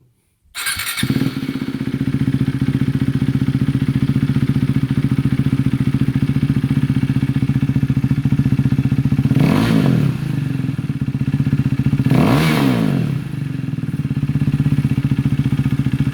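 A 2020 KTM Duke 390 motorcycle with an aftermarket exhaust and dB killer starts and idles with a loud, deep, throaty rumble, then revs sharply twice, the pitch rising and falling each time.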